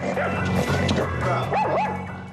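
A dog growls, yips and barks in quick agitated bursts, close and loud, with whimpering tones mixed in over a short stretch of low rumbling noise.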